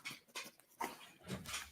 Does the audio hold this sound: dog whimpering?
yes